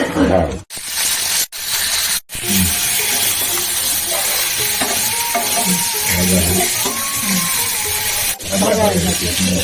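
Katla fish curry with tomato and mustard sizzles and hisses in a wok, with scraping stirs and a few abrupt pauses, while a person talks over the cooking.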